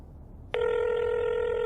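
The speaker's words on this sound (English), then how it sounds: "Answer your phone, pal." An unanswered telephone starts ringing about half a second in and sounds steadily to the end, with several bright, sustained tonal bands. The ring is loud and close, no one speaks, and a faint background hum sits underneath.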